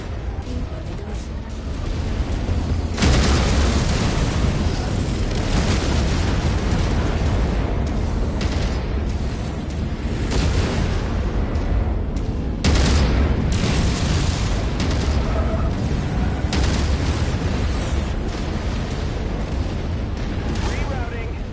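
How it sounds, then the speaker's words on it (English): Missile explosions and heavy combat in MechWarrior 5: Mercenaries, a dense roar of booms and blasts with sharp impacts around three and twelve seconds, loud and continuous, with voices heard intermittently. "Incoming missile."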